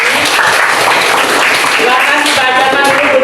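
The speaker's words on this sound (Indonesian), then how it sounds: "Tepuk tangan dong untuk Evi." Classroom applause for a student, a steady wash of many hands clapping close by for a few seconds, mixed with a murmur of voices.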